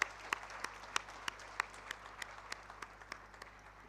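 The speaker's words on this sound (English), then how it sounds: "I would plead with you to give her a resounding round of applause this morning" Sparse applause from an audience at a citizens' assembly launch, with a few distinct, sharp hand claps standing out over softer scattered clapping that thins toward the end.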